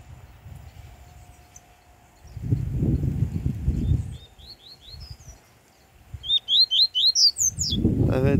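A caged papa-capim baiano seedeater sings a run of quick, high chirping phrases, clear and fairly close, over low room rumble and shuffling noise.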